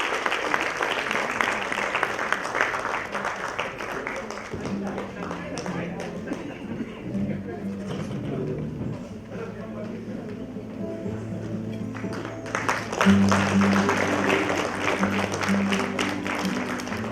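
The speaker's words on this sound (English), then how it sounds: "Come on, let's continue to cheer." Sustained audience applause and cheering at a Women's Day celebration event on stage, a dense crowd clapping throughout with a swell near the end while music plays underneath.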